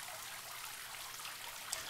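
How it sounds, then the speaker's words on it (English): Water runs steadily into a bathtub in the indie horror game The Torture House, a faint, even trickling stream with no other sounds over it. "It's just sitting in a bathtub. Letting the water rise."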